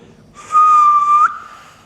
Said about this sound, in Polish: w to musisz dmuchać i to gwizdze, jak dobrze gwizdniesz